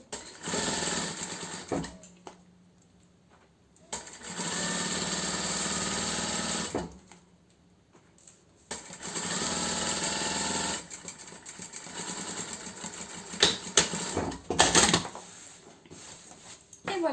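A sewing machine stitches the hem of a cushion cover in several close, loud bursts of rapid mechanical whirring, separated by short quiet pauses. Brief handling clicks come near the end.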